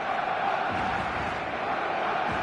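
A packed football stadium crowd waits for kick-off, a loud, steady roar of massed voices with scattered shouts that runs unbroken from start to finish.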